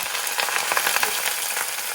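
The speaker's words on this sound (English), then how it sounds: "This is sizzling" Steady, close sizzling and crackling of garlic frying in hot oil in a pan, a dense hiss with small pops throughout, no voices.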